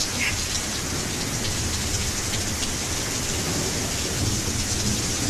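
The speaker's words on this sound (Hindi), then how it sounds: "ये बारिश बहुत अच्छी है." Steady rain pours down in a dense hiss with low thunder rumbling underneath, constant and close throughout with no voices.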